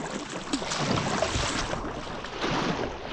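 A boat motoring across an open lake in Patagonia, with a steady broadband wash of engine and water noise, wind hiss and lapping waves throughout.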